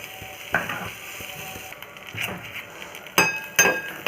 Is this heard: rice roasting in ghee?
yes